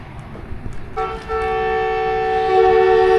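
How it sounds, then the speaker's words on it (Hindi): Two trains, one the Awam Express, sound their departure whistles together at Rawalpindi station. Rumbling platform noise comes first, then a loud, sustained tonal horn blast starts and swells, with a second horn layering in toward the end. "दोनों ट्रेन का सेम टाइम पे डिपार्चर विसल, और दोनों ही ट्रेन का सेम टाइम पे डिपार्चर"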